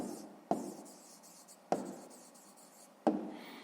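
Pen on paper writes out a math answer by hand: soft, close scratchy strokes broken by three sharp taps, quiet and without talk.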